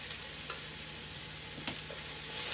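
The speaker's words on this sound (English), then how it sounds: "So give that a stir." Sweet potato and minced garlic stirred in a pan, a steady low sizzle running under a few soft scrapes of the utensil, close and fairly quiet with no one speaking.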